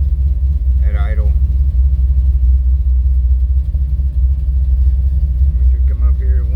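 An old truck engine idles with a steady, loud low rumble throughout, with brief bursts of speech over it.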